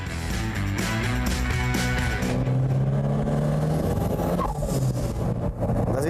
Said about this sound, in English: The whistling sound the car makes while changing gears is typical of the turbocharged